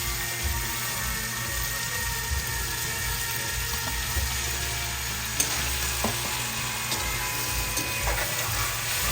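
Tofu and tomato frying in a pan, a steady low sizzle and crackle running evenly throughout, with faint stirring clicks and no speech.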